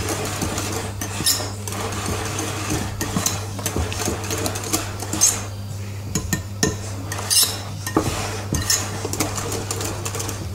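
Sponge batter for a bûche de Noël is folded together in a bowl with a spatula, working beaten egg whites into the mix. There are scattered clinks and scrapes against the bowl over a low steady background hum, and no talking.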